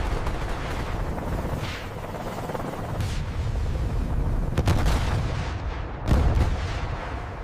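Ka-52 helicopter weapons fired in a live exercise, heard as a dense, loud barrage of booming blasts and cracks over a steady low roar, with sharper reports standing out near the end.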